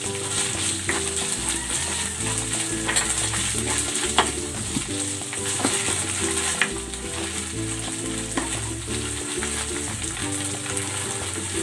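Argentina brand canned ground meat sizzles and fries steadily in a pan, a dense, continuous crackle with occasional stirring scrapes, close and fairly loud throughout, with no talk.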